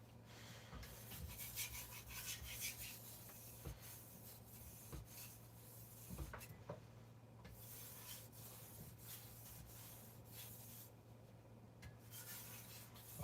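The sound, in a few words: knife being sharpened, blending edge bevel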